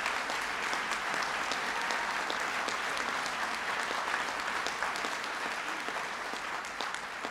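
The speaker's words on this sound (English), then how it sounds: "so please give them a big round of applause." A large audience claps steadily and densely at a public outdoors-conservation event, the applause staying loud and even throughout with no voices standing out.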